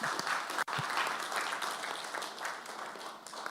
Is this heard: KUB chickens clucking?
no